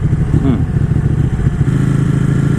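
A Ducati Panigale V4 motorcycle rides on a California road, its engine a loud, close, throbbing rumble that holds steady throughout the short stretch.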